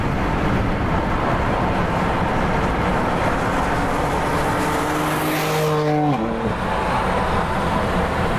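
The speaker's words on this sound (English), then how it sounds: "I'm gonna start driving" Car driving on the road, steady engine and road roar throughout, close and loud, with a brief tonal gear-like pitch shift near the end and no talking.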